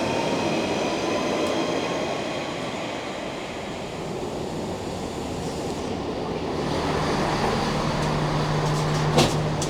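A Great Western Railway train running, heard from inside as a steady low rumble and wash of wheel and track noise with a faint tonal whine, fairly quiet and continuous, with a brief click near the end.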